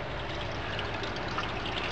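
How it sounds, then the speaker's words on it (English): Water being changed in a Nepenthes pitcher plant terrarium: a steady stream of pouring and trickling water, close and continuous, with no talking. "it's actually water changing day today"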